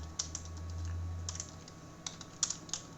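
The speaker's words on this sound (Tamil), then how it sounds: "இந்த இடத்துல வந்து நம்ம கஸ்டமர்ஸ் டீட்டெயில்ஸ் வந்து டைப் பண்ண போகிறோம்." Typing on a computer keyboard while entering customer details into an Excel invoice, with scattered soft key clicks over a low steady hum and no talk.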